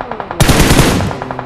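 Automatic gunfire from PUBG Mobile, a loud sustained burst that cuts in sharply and rattles for about a second, with faint rhythmic ticks before and after it.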